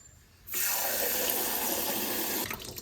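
Water is poured from a glass into a cooking pot as rice is readied for cooking. A steady rushing splash starts suddenly, runs for about two seconds and then cuts off.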